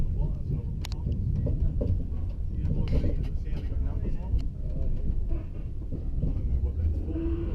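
Steady low rumble and rattle from inside a long passenger train riding the rails in Europe, a continuous loud drone with occasional clicks and knocks, with voices murmuring beneath it.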